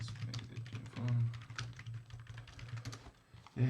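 Someone types steadily on a computer keyboard while solving coding contest problems. Rapid, close key clicks run throughout under a low background hum.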